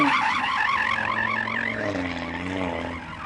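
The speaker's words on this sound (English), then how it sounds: "Go on then, Audi, warm up your tyres and try to slide if you can." An Audi RS3 screeches as its tyres squeal and skid while warming up, a loud wavering howl over the steady drone of the engine.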